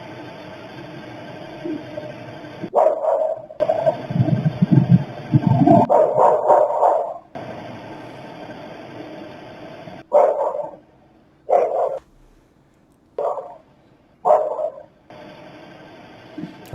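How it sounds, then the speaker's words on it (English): A dog barks outside on a surveillance camera recording at 1112 King Road, with a few clustered barks early on, then single barks spaced apart over a low, steady hum, all at moderate distance. "is Murphy just outside barking at Koberger while he's right next to his car?"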